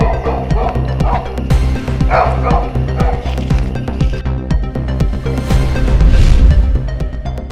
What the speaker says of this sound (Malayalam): പങ്ങാരപ്പിള്ളി ബാബു ആടുപാറ എന്നിവർ ചേർന്ന് തെരുവു നായ്ക്കളുടെ ആക്രമണത്തിൽ നിന്നും രക്ഷിച്ചു